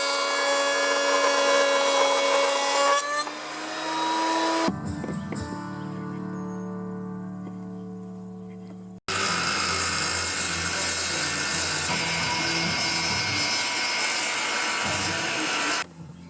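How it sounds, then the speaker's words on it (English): A router mounted under a table, with framing timber clamped on as a guide, screams as it cuts wood in two long loud passes, separated by a quieter stretch where the motor winds down and hums. "Underneath is the router, which is mounted to the bottom."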